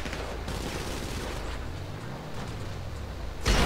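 Sustained gunfire from a motorcycle drive-by in GTA V Online, a dense rattling fusillade running nearly continuously with engine rumble beneath, ending in a louder close burst.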